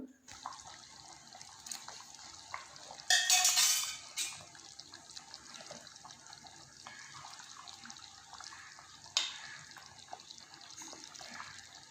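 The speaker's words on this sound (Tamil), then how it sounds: "குழம்பு நல்லா கொதிச்சிடுச்சு" Steady bubbling and watery simmering of a pot of chicken gravy with pepper-garlic paste, with a couple of louder sloshing bursts and faint kitchen clatter.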